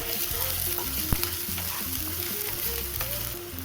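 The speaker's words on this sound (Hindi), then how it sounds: "ये तीनों को थोड़ा देर सौटे कर लेंगे अच्छे से" Steady sizzling and frying of green chili, ginger and garlic in a hot pan, with stirring scrapes and a faint background hum, continuous and fairly quiet.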